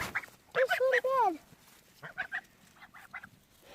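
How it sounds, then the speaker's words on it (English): Pet geese honk loudly in short bursts and warbling calls at close range while being fed bread on a farm, with a second quieter series of honks following after a pause. "So this is how we feed our geese. With bread."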